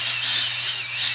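High, whining hum of small FPV drone motors spinning with the throttle raised a little, a steady close buzz with a slight rise in pitch partway through, no voices.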